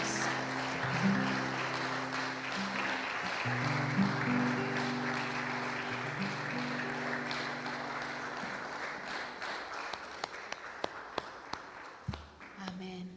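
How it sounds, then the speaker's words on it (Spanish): A church congregation applauds steadily, the clapping gradually thinning into a few scattered claps at the end, with music and voices underneath. "Damos un fuerte aplauso a nuestro soberano Dios."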